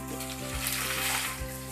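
Tomatoes hit a hot pan of frying onion, garlic and green chili, giving a steady loud sizzle with a few soft stirring knocks underneath.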